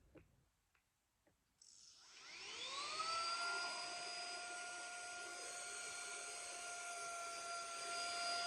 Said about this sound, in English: This is the new 3-in-1 vacuum from TikTok Shop.